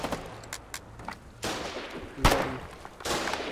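Field guns fire in the video game Foxhole during a battle at an abandoned ward: four sharp booming blasts at irregular intervals, the third the loudest and closest, with quieter gunfire crackle between them.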